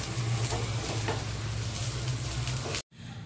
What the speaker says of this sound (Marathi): आता याच्यात ओलं खोबरं टाकते मम्मी. ते पण आता ओलं खोबरं भाजून घ्यायचं.